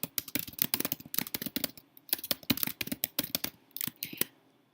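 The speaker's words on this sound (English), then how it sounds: "Short enough, so I'm going to type that in." Quiet, rapid typing on a computer keyboard: irregular bursts of close, crisp key clicks with short pauses, no voices.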